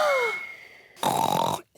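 A cartoon pig voice imitates loud snoring with a drawn-out nasal snort, then a short pause and a buzzing, rasping snore burst that cuts off abruptly.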